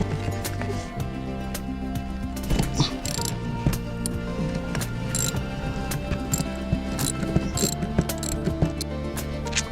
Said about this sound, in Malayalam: ഇനി ഇതേ ഈ സ്ക്രൂ ഇത് അഴിക്കാൻ പോവാം.